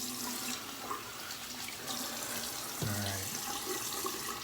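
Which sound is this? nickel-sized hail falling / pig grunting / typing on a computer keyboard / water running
water running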